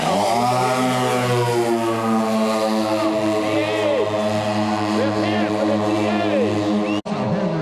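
A radio-controlled model airplane flies an outside loop at an outdoor fly-in, its engine droning steadily with a harmonic whine whose pitch rises and falls as it turns, heard through continuous crowd noise and nearby talk.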